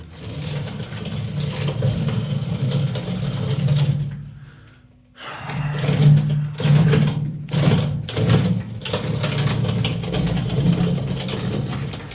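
A small scooter motor whirs and hums steadily while riding through a tunnel of steam pipes under a house, dropping away briefly and returning, with mechanical rattles and clicks along the way.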